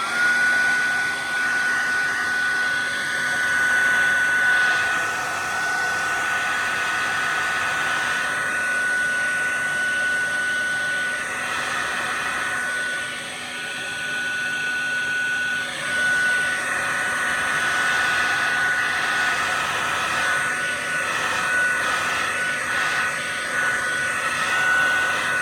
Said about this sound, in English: I'm going to hair dry a little bit more, my friends.